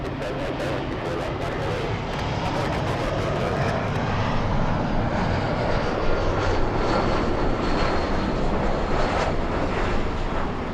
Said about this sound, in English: Little E175 flying in from Monterey, California.